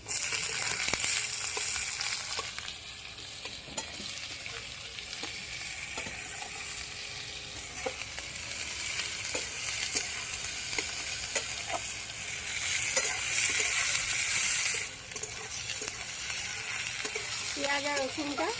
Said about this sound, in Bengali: হালকা করে ভেজে পেঁয়াজ কুচিটা দিয়ে দেবো এবার